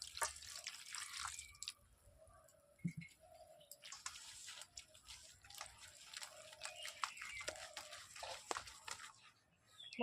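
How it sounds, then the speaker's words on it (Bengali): Water trickles and drips into a bowl of 500 g flour and sugar as batter is mixed for patishapta, with small splashes and wet stirring sounds at a steady, moderate level. "আমি অল্প অল্প জল দিয়ে আমি ময়দার ব্যাটার তৈরি করে নিচ্ছি"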